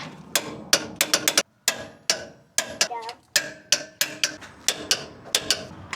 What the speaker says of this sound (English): we're gonna torque this down to 105 foot-pounds